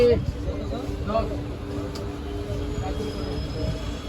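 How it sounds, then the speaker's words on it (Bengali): A passenger train pulls into Bardhaman station in light rain, a dense, rumbling roll of wheels on track with a thin, high wheel squeal rising near the end. "একদম রাইট টাইমে ট্রেন বর্ধমান স্টেশন ঢুকলো"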